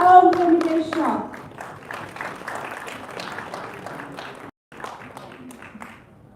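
An audience at a launch event claps briefly, a scattered burst of handclaps that thins out quickly, with speech nearby.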